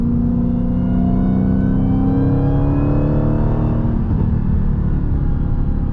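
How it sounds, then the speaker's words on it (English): A Dodge Challenger SRT Demon's HEMI engine rumbles loudly while a high supercharger whine climbs in pitch alongside it, the sound shifting as the revs rise and settle. "the HEMI doesn't completely drown out that whine."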